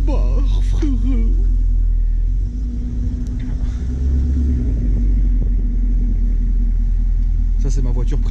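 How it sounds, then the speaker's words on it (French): A Maybach car rolls past at night with a loud, deep, sustained engine rumble close by, while people talk briefly at the start and the end. "Oh, oh, Maybach que j'avais pas vu."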